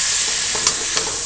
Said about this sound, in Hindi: अब इसमें डालते हैं टमाटर। टमाटर को गलने तक